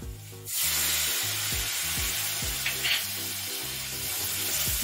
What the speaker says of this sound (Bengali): এই যে লাল লঙ্কার গুঁড়ো আর রেড চিলি পাউডার দিয়ে এবার এটাকে খুব ভালোভাবে ভাজতে হবে।